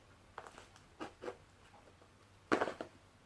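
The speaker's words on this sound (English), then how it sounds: "Trusty scissors." Scissors snip and crunch through plastic packaging in a few quiet, separate cuts, ending with one louder crinkling cut.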